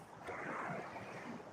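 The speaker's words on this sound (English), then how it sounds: "you can hear the water action from the waves from the boats going by" Water sloshing from passing boat wakes on the Intracoastal Waterway in Pensacola, a soft, steady broadband wash with gentle surges, faint and close, with some wind noise.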